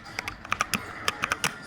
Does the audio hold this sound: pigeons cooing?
no